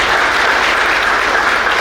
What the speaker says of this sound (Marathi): यांच्यासाठी एकदा जोरदार टाळ्या पडाव्या